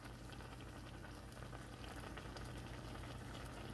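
Food simmers in a pan with a quiet, continuous bubbling and light sizzle that stays even throughout, with no voices over it.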